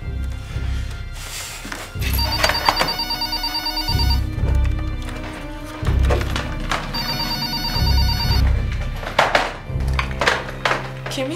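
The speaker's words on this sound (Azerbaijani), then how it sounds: "Mən necə götürüm axı telefonu?" A telephone bell rings repeatedly indoors during a tense domestic drama scene, with steady, evenly spaced bursts of ringing that carry clearly throughout with no talking over them.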